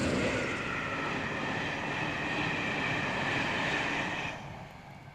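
A passing Spanish Talgo 350-era style locomotive-hauled passenger train rumbles steadily with a broad rushing roar, then fades quickly near the end as it moves away.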